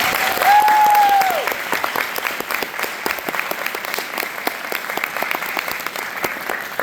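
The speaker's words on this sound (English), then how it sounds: "give you a round of applause for all of your efforts in being here tonight" Steady audience applause for students at a school awards evening, a continuous dense patter of many hands clapping, with a brief whistle or feedback tone near the start.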